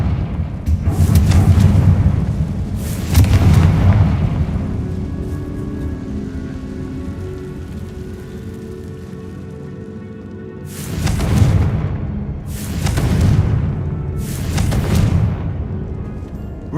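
Confringo blasting curse explosions in Hogwarts Legacy, two heavy booms early and three more in quick succession near the end, each with a broad rumbling tail, with quieter ambience in between.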